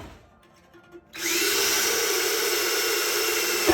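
A power drill bites into steel during an amplifier head build: after a second of quiet, a loud, steady high-pitched whine kicks in and runs unbroken to the end, close and alone.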